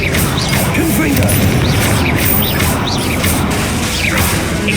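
Confringo blasting spell explosions in Hogwarts Legacy during a boss battle, a continuous loud roar of booms, crashes and whooshes with a voice shouting over the din.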